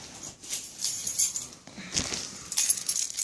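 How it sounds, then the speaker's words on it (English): A bunch of keys jangles and clinks near the mic in irregular bursts over a few seconds, with no one speaking. "Get out my keys, maybe that'll help."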